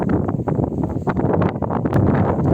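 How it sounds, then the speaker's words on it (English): Strong wind blows in steady, rough gusts, buffeting the microphone with a constant low roar and brief flaring bursts. "It's getting really, really windy here, and it's still an icy cold wind."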